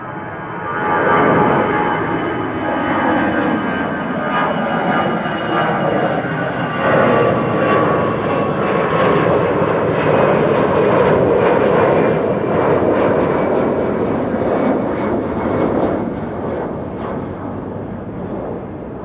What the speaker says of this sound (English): here is the EasyJet to Luton